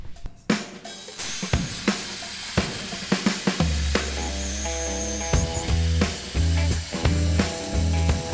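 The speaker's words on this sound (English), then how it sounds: "a little piece of like 3/8 plate about that big that I can just weld to the bottom of the factory steering stop" MIG welding a small piece of 3/8-inch steel plate onto the factory steering stop of an old dirt bike: a steady, close crackling sizzle with sharp pops and a droning hum underneath, with no talking.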